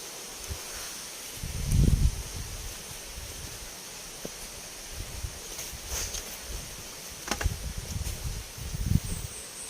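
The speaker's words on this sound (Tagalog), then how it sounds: "ihip ng hangin" Leaves rustling in an outdoor breeze, with soft gusts of wind rumbling low now and then and a faint insect hum in the background.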